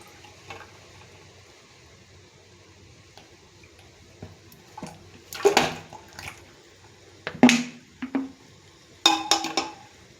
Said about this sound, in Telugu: ఇవి ఆవి జున్ను పాలు కూడా వేస్తున్నాను.